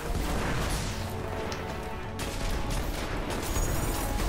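Sustained, dense gunfire in Destiny's Wrath of the Machine raid, fired at shanks, forms a continuous loud roar of rapid shots and impacts with no gaps, close and overwhelming throughout.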